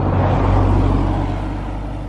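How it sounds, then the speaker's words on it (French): A car with a Nissan RB26 engine runs nearby, a deep, steady rumble that stays loud and then fades slightly toward the end, with no voices. "Elle fait le bon bruit du RB26 comme on aime."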